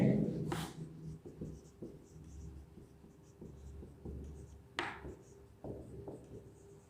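Chalk or marker writing on a board during an English grammar lesson, a few short scratchy strokes and taps with sharp squeaks at intervals, close by, with someone speaking softly between them.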